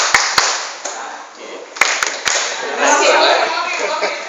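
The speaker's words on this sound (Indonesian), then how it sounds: "tepuk anak soleh" A group of adults at a children's Quran-school teacher training claps in short rhythmic bursts of a children's clapping chant while voices talk and chatter over the patterns.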